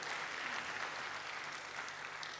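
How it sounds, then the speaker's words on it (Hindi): An audience at a motivational talk applauds, a dense and sustained clapping from a large crowd that holds steady for a couple of seconds with no one speaking over it. "आप लोगों ने ताली बजाई"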